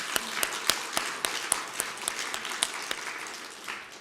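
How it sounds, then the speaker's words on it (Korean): A church congregation applauds, with a run of sharp, irregular claps and short bursts of clapping over a soft room wash that thins toward the end. "그 부활하신 하나님께 영광의 박수 올려드립니다."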